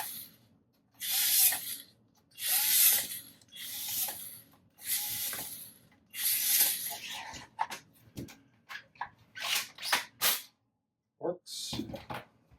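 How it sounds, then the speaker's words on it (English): Six small screws being driven into the plastic butt plate of a B1Z0N half-dart pump-action springer toy gun, a series of close ratcheting, grinding bursts at an irregular rhythm, some longer runs and shorter clicks, with no talk. "Let's get the butt plate on. 6 screws, which conveniently are already installed."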